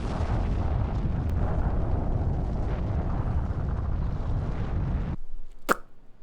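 A bomb explosion in the anime Jujutsu Kaisen: a sustained, loud, broadband roar of blast and debris holds for about five seconds, then cuts to near silence with one brief sharp crack.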